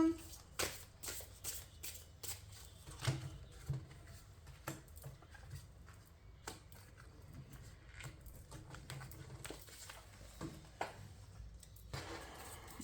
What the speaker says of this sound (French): Alors ensuite on va tirer une carte du messager des étoiles.